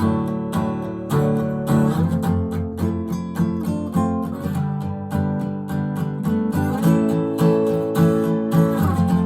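Guitar playing the outro of a song, with strummed chords in a steady rhythm and a few chord changes, close and clear with no talking.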